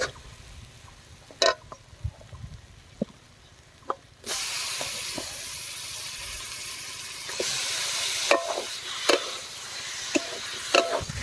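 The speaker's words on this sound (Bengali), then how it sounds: "চর্বির সাথে মশলাগুলোকে ধীরে ধীরে ভালো করে কষিয়ে নেব" Mutton fat and spices frying in a pan, starting with quiet scattered clinks, then a sudden steady loud sizzle with occasional sharp stirring knocks against the pan.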